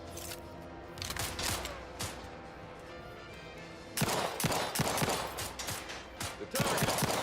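Gunfire in the video game The Outer Worlds 2, a series of sharp shots, some in quick bursts and others spaced apart, fairly loud over a low game background.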